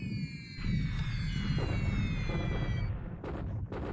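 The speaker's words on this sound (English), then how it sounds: "what we're doing here is we're bombing the troops" Explosions thunder as troops are bombed in the WWII strategy game War in the Pacific, a dense continuous rumble of blasts with bursts and crackles, loud throughout with high whining tones fading midway.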